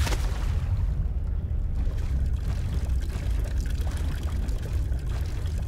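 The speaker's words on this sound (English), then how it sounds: "I like the water effects." Steady flowing, pouring water rushes continuously in an Amnesia custom story, loud and close, with no breaks and no talk.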